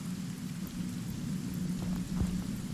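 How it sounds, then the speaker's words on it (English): A rain spell cast in the video game Divinity Original Sin brings steady, dense rainfall with a low rumble like distant thunder, constant and fairly loud, with no voices. "No, I'm casting rain."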